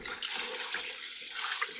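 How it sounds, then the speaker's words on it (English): Sink faucet sprayer blasts water over a bunch of fresh asparagus spears, a steady, close hiss of spray running unbroken throughout with no talking. "And then I'll hit them with the spray,"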